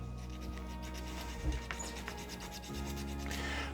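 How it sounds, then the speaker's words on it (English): Small plastic parts of a Gundam Wing model kit being sanded by hand, a quiet, close, continuous rubbing rasp with repeated short strokes and no talking. "we got to be careful because we don't want to sand off major details."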